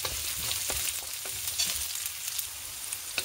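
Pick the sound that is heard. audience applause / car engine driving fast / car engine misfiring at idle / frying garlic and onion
frying garlic and onion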